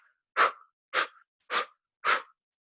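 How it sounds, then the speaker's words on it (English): Rapid ujjayi breathing during a flow yoga class: four short, forceful, breathy exhales in an even rhythm, close and clear with no other sound. "or you can switch over to an ujjayi breath, which is a more rapid breath"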